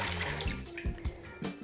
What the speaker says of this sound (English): So I'm going to put my cold water in here.